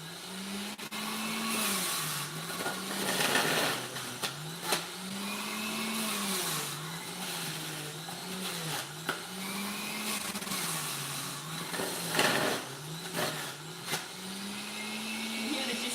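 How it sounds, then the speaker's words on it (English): A loud electric juicer whirring steadily, its motor pitch wavering up and down in a regular cycle, with occasional clatters and knocks. "I'm just going to switch the juicer on, and it's a bit loud"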